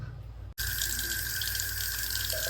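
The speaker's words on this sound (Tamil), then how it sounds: "ஒரு ஸ்பூன் போட்டு வாஷ் பண்ணி எடுத்துக்கிறோம்." Running water pours steadily from a tap as fish is washed in water with turmeric powder, a continuous close splashing flow after a brief pause at the start.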